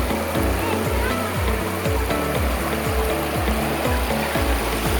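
Water rushes over stones at a subdam in a steady, close, full-bodied flow with a rhythmic churning pulse, continuous throughout, with no talk over it.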